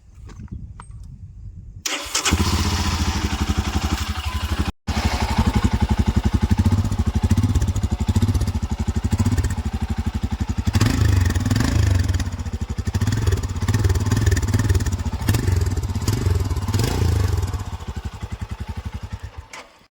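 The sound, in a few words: motorcycle engine running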